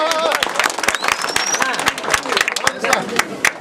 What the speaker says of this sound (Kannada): ಜೋರ ಚಪ್ಪಾಳೆ ಹೊಡಿ ಸರ್.